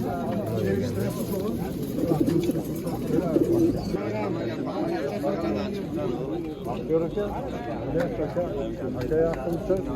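Several pigeons cooing in soft, overlapping calls close by, with people chattering throughout.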